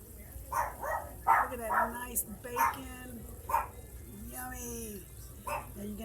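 Dogs bark and yip repeatedly at moderate distance, with some whining tones and steady background noise.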